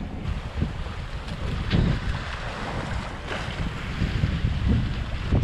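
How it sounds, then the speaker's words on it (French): Steady wind rushes over a sailboat heading south under an unrolled genoa, with a broad continuous roar and gusty low buffeting close to the microphone and no talking. "Il semblerait qu'il y ait pas mal de vent."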